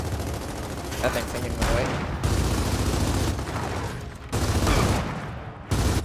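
Gears of War video game firefight with sustained bursts of gunfire that come and go in loud stretches, while a player speaks briefly over the shooting.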